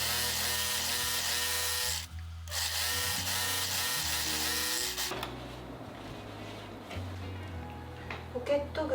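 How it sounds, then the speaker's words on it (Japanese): Sewing machine stitching a pocket opening on a garment's seam pocket, a steady motorized whir running loud and close for about five seconds, pausing briefly, then giving way to softer handling noises. "ポケット口を縫っていきます。"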